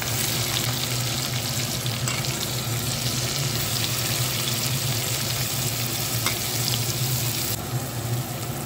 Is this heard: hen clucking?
no